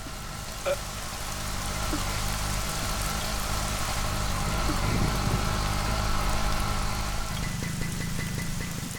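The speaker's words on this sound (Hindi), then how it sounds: "ये अचानक जितनी तेज बारिश शुरू हो गई।" Sudden heavy rain pours down in a steady, dense hiss that fills the whole stretch, with a low engine-like rumble underneath and no voices.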